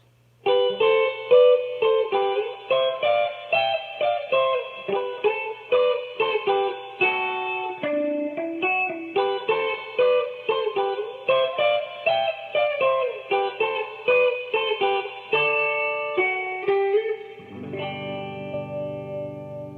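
Electric guitar with a chorus-like shimmer plays a song intro as a long, steady sequence of picked notes at a slowed pace, closing on a ringing held chord.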